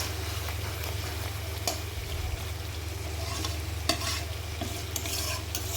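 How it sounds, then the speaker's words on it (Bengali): Meat frying in a pan while being stirred, a steady close sizzle with scraping stir strokes running through, no talk. "আমি অনেক সময় নিয়ে মাংস কষিয়ে রান্না করি"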